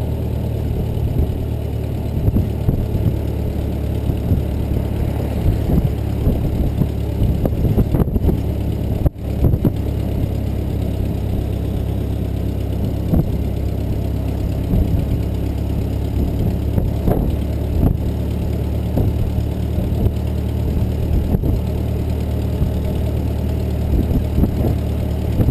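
A 1922 Ford Model T engine running while driving, a steady low loud drone with faint knocking pulses throughout, close and continuous with no talk.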